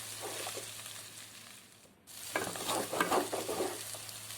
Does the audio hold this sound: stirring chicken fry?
yes